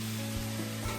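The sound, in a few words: Manchurian balls frying in oil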